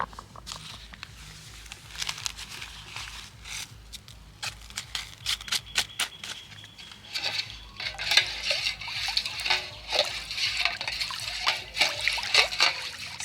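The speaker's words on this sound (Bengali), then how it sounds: "এটাকেও আমি ওই একইভাবে জলের সাথে ভালো করে গুলে নেব" Camphor powder being stirred into water, giving close trickling, splashing and sloshing with scattered clinks, busier and louder in the second half; no talking.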